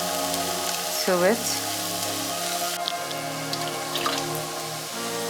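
Carrots go into a hot pan while making egg fried rice, a steady rain-like sizzle with faint drips running under someone speaking throughout.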